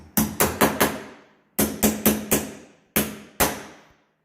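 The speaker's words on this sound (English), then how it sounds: "all we need to do is with a little hammer" A small hammer taps a hinge pin into place during a door hinge replacement: nine sharp, close metallic taps in three quick bursts of four, three and two, with short pauses between them and no talk.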